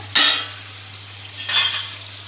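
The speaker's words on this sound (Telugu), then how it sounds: "మంచిగా ఇట్లా కలుపుకోవాలండి" Yogurt masala chicken curry stirred in a pan with a utensil, two short scraping, sizzling strokes close up over a steady low hum, with no talking.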